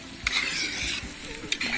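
Food fries in a cast iron kazan while a utensil stirs it, giving a steady close sizzle with a few sharp scraping knocks against the pot.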